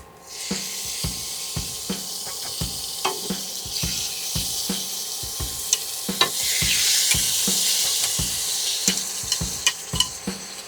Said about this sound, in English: Once we have the liver in this state, after 3 or 4 minutes, it's cooking really well.